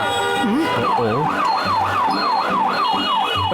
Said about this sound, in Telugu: అంబులెన్స్ ఇరుక్కుపోయింది, మనం ఇప్పుడు సహాయం చేయాలి.